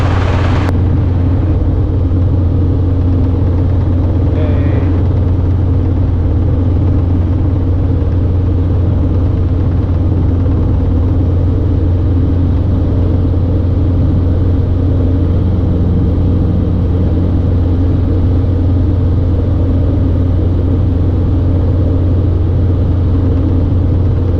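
Loud, unbroken cabin drone of a Robinson R22 helicopter in flight, its engine and rotor throbbing low and steady for the whole stretch with no voices over it.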